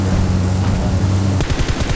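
In a shooter video game, a steady low-level battle ambience gives way to a loud, rapid burst of automatic gunfire, rattling shots in quick succession over the final half-second.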